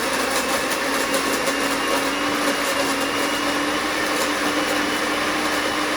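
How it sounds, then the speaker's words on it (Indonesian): Blender running steadily while blending fish broth for homemade baby food, a continuous high-pitched motor whine with no voices. "Jadi kita blender ya teman-teman."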